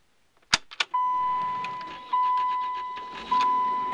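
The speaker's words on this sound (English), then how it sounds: "let's give it a cold start" A 1992 Dodge Caravan engine is cold-started: several clicks, then a crank and catch into a steady idle, with a faint electronic tone and a couple of small rises in engine level, close and fairly loud.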